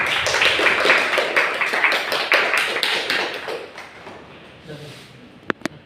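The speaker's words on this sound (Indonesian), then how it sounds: "Kasih aplaus untuk masing-masing." Students in a classroom clap for each other's presentations during a biology microteaching lesson, a brisk round of close hand claps that thins out and fades after a few seconds, with a little talk alongside.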